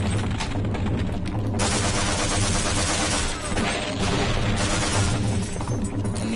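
Rapid automatic gunfire in Half-Life pours at the Gonarch boss, a dense, loud, sustained burst of shots with brief gaps and no talking.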